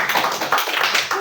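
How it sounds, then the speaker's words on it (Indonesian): A crowd at a discussion event claps in a short, fairly loud burst of overlapping hand claps with no talk over it. "Tepuk tangan dulu buat Balkoters semuanya."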